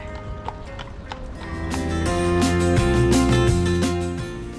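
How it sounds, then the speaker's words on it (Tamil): Hooves of a carriage horse clip-clop steadily on pavement in New York's Central Park, the rhythmic beats growing louder as it passes close by, with music playing in the background. "இந்த மாதிரி குதிரை வண்டிகள் கூட இங்கே இருக்குது"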